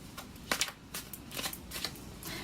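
Tarot cards being shuffled by hand, a run of soft papery riffles and flicks with a few sharper bursts, close and fairly quiet, no voices.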